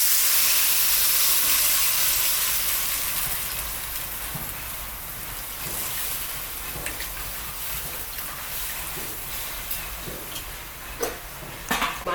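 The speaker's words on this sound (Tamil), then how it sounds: "புளியை ஊற்றுறோம்." Tamarind water hitting a hot pan of sautéed onions for a village-style pepper and tomato kulambu, a broad loud hiss that gradually eases into softer, irregular crackling and sputtering.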